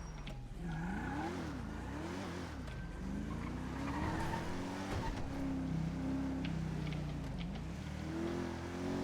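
In a police roleplay driving game, a car brakes hard and skids with rising and falling tire squeals over the engine hum, several squeals following one another, fairly faint throughout.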